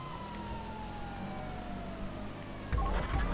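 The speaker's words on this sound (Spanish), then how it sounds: "Prendemos la sirena y dale que es tarde." A wailing police-style siren from a video game police car, GTA V Online, sweeps steadily over a continuous engine drone, with a louder burst of rumbling noise near the end.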